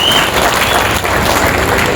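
Crowd applause at the unveiling of a new Ambedkar statue in Jakkahalli, a dense, steady wash of clapping from many hands that carries evenly through the whole stretch with no voices on top.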